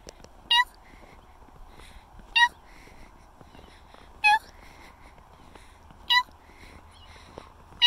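A small kitten meows five times at steady intervals, thin high-pitched cries over a quiet snowy outdoor background.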